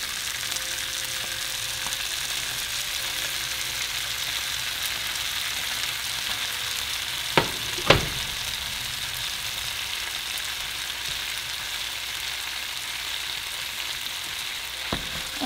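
Green chile and minced garlic sizzle in a pan with an even, steady hiss for a long stretch, with only a couple of brief sharp clicks of a utensil partway through and near the end.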